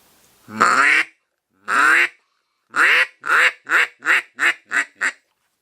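A handmade duck call blown close up in a low, raspy tone: two long drawn quacks, then a descending run of seven quicker quacks that shorten and speed up toward the end, with no other sound.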